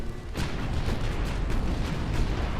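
A torpedo detonation in the naval warfare game Ultimate Admiral Dreadnoughts, heard as a loud, continuous rumbling blast that holds steady throughout with no talk over it.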